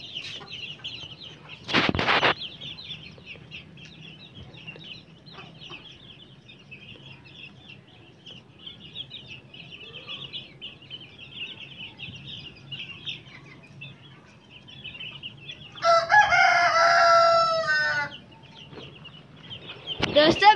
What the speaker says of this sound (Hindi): ये मुर्गा छोटा है जिसकी वजह से अभी सही बांध नहीं देता